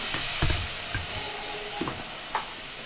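Fennel seeds sizzling in hot oil while frying for mushroom biryani, a steady bright hiss with a few soft stirring clicks and pops.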